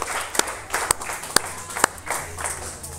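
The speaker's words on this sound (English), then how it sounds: "Give yourselves a round of applause." Scattered audience applause at a live rap battle event, a handful of sharp individual claps standing out over a thin, uneven crowd patter that stays fairly quiet.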